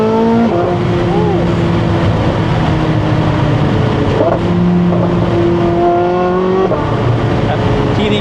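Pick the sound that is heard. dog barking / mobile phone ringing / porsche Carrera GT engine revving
porsche Carrera GT engine revving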